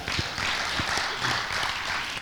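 Congregation clapping for a man named Casey at the back of a church hall, a steady diffuse patter of hands filling the room, moderately loud throughout with no talk over it.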